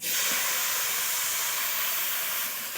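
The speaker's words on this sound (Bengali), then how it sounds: "এবারে দিয়ে দিচ্ছি মাছের মাথা সমেত" Fish head with pui shak greens and taro hitting a hot pan, a loud, steady hiss of sizzling oil that starts at once and holds evenly, close and alone.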